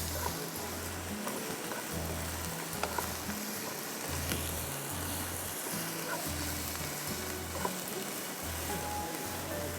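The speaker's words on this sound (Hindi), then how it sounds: "2 मिनट हम इसको फ्राई करेंगे" Oil sizzling and frying in a pan while cooking green tikka tenders with tomatoes and chopped green chillies, a dense continuous crackle with faint rhythmic clatter underneath, no talk.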